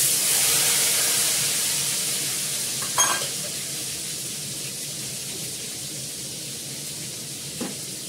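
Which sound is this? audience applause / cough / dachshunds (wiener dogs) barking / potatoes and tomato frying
potatoes and tomato frying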